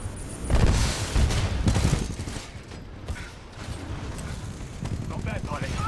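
Gunfire bursts out in Titanfall 2 combat, with booming shots and rattling fire scattered across a dense, noisy battle mix and some voices mixed in.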